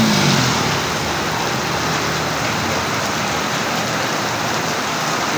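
Heavy rain pours down in Naga, Bicol, a dense, loud, continuous roar of drops beating on surfaces, with a faint engine rumble underneath and no voices.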